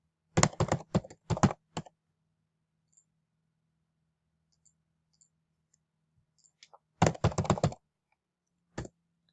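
Computer keyboard keys tapped in two quick bursts of typing, close and crisp, with a single stray click at the end and near silence between.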